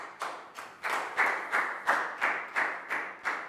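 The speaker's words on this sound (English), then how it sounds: "High five and a big round of applause for Lakau too" A classroom of pupils claps in unison for a classmate, about ten sharp, evenly spaced claps in a steady rhythm, close and bright in a small room with no talking.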